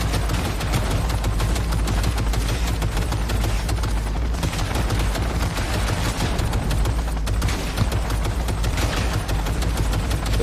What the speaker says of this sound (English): Turrets are constantly shooting.